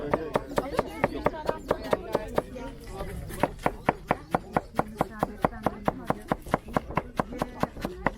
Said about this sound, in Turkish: Ürünü çok ince doğramamız gerekiyor